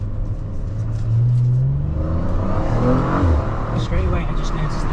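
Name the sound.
Audi RS5 Carbon Edition V6 engine accelerating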